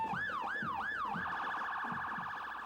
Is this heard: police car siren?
yes